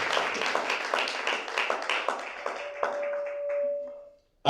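A church congregation claps in a quick, rhythmic patter that fades over a few seconds. A short sustained tone sounds near the end, and the clip finishes with an abrupt loud cut.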